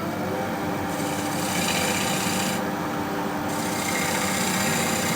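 A bowl gouge with an asymmetric grind cutting a spinning wooden bowl on a lathe, a loud continuous rasping shear with a rhythmic hum that brightens as the cut deepens, heard alone.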